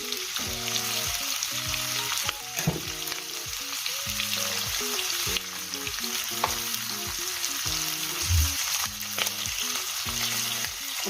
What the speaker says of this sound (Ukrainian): Смажити будемо на великому вогні.